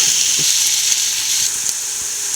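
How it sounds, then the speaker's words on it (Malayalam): Crushed ginger, garlic and green chillies sauté in hot oil in a pan for egg biryani, a loud continuous sizzle with a few faint stirring knocks underneath. "ഒരു പച്ചമണം മാറുന്നിടം വരെ വഴറ്റിയാൽ മതി"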